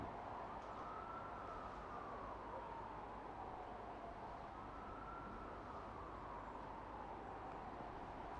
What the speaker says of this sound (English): I should say hear an ambulance as well in the distance